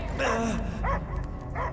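Cosmo the dog barking in the video game Guardians of the Galaxy, three short close barks with a whimpering tone, set against a low background drone.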